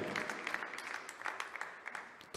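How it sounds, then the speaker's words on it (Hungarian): A darts crowd at the PDC European Darts Matchplay claps steadily, a fairly soft patter of applause with no talking. "Tapsot így is megkapja."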